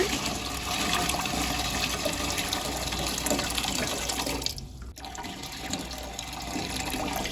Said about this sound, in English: you're gonna get your steamer pot, and you're gonna add hot water to the line